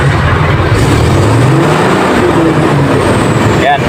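Isuzu 6HK1 truck diesel engine running after a low-power repair, a loud steady close rumble with a faint rising whine, people talking over it.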